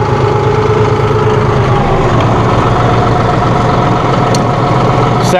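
A 2016 John Deere 5045E utility tractor with a 45 hp engine runs steadily nearby, its low diesel rumble loud and unbroken throughout with no one speaking.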